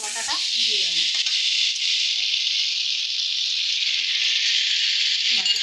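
Coriander paste being mixed into potatoes for aloo dum in a hot pan, a loud steady hiss of sizzling with faint scraping and brief voice sounds at the start and end.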